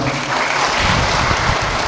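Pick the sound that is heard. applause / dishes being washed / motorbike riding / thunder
applause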